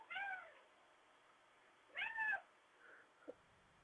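A house cat meows twice, each call clear and fairly close, with a short pause between them and a faint small sound trailing after.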